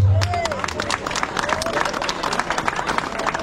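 Audience applauding livestock farmers at an agricultural fair, a crowd of distinct sharp claps with some murmuring voices underneath, lively and close.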